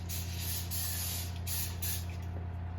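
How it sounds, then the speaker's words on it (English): Vegetable cooking spray spritzed onto a muffin tin, a close, continuous pressurized hiss lasting a few seconds with slight pulses in intensity, no talking. "we're going to spritz our muffin tin"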